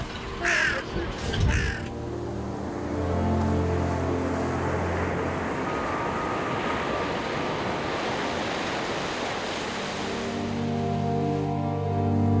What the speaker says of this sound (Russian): Здравствуй, Тихий океан.